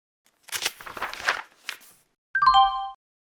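A single short electronic bell or chime sounds once for about half a second near the end, ringing as a cluster of clear tones. Before it come a few soft shuffling or tapping noises, and there is no talk.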